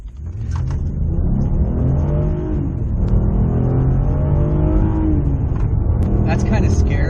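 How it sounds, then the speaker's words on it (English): An Acura TLX fitted with a Sprint Booster accelerates, its engine note rising steadily and loudly from inside the car, with a faint rattle near the end. "As soon as I push the gas, I am there quick."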